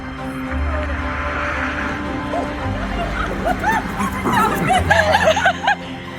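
A small dog outside a home-decor store barks, yips and whimpers in short excited bursts, close by, while people talk and laugh in the background.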